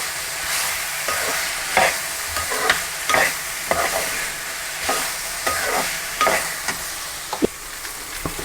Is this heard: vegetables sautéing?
yes